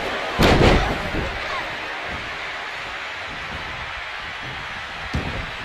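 A heavy club blow lands with a loud, booming impact early on in a Royal Rumble wrestling video game match, followed by crowd and arena noise, with a second, smaller thud near the end.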